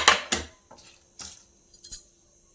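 Dishes and utensils clink as fried ingredients such as sesame seeds are moved into bowls: a few sharp metallic knocks and scrapes in separate bursts, close by, with quiet gaps between.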